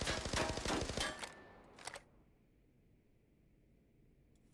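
Rapid automatic gunfire in Arena Breakout Infinite, a tight burst of sharp, evenly spaced shots lasting over a second, followed by one or two short trailing bursts and then near silence.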